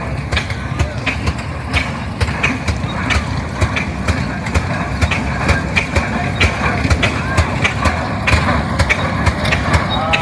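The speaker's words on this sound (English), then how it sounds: "Beautiful early tractor." Early friction-drive tractor running at the Rough and Tumble Engineers show, a rapid, regular chuffing beat over a low engine rumble, close and continuous, with people talking in the background.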